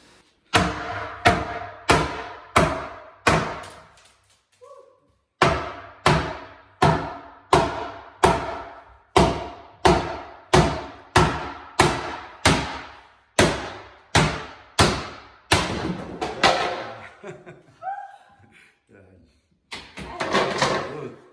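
Repeated heavy hammer strikes during bathroom demolition at a steady rhythm, each a sharp crack with a ringing decay, about two per second with brief pauses.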